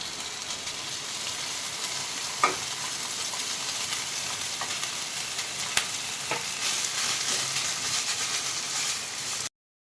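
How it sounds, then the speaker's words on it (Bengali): Ghee is spread around a hot wok with a spatula, making a soft, even sizzle with occasional scraping clicks, steady and close, before the sound cuts to silence at the end. "ঘিটাকে আমি কড়াতে মাখিয়ে নেব প্যাচুলার দিয়ে দিয়ে দিচ্ছি"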